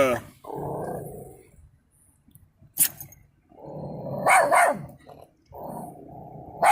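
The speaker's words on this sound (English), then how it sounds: "she barks at lights." A pet dog barks and growls in short bursts indoors, several loud barks with gaps of quiet between them, close to the listener and with no talk over them.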